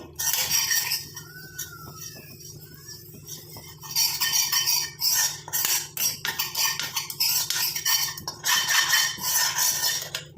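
A spoon scrapes and stirs herbal hair-dye powder as it fries in a pan, in repeated rough bursts separated by short quieter pauses.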